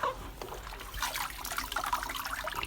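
Fruit being rinsed clean in a basin of water, with steady close trickling, dribbling and light splashing throughout, no voices.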